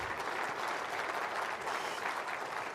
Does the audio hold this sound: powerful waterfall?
no